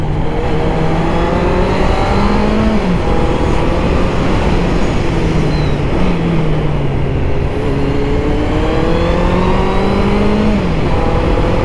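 A motorcycle engine drones loudly and continuously from the rider's position while riding, with rising and falling revs as it works through gears, all under heavy wind roar.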